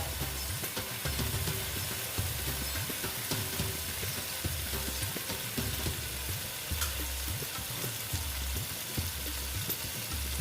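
Pointed gourd (potol) frying with cashew paste in a pan, a steady close sizzle with occasional stirring scrapes running throughout, no voices over it.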